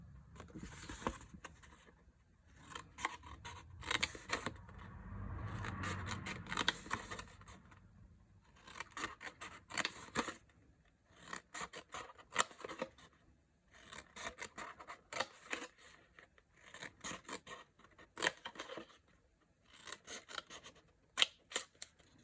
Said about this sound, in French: tous les rectangles là, on va couper droit jusqu'à la ligne